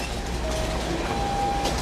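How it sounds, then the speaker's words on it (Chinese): A train in a Taiwan Railway station, with a steady loud rumble of rail cars and a faint high wheel squeal running through it, no voices. "顺利进站搭乘火车。"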